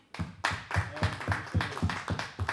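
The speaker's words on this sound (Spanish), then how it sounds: "Aplausos al Señor" Congregation at a church service clapping in a steady rhythmic beat, about four claps per second, close and fairly loud, with a faint voice underneath.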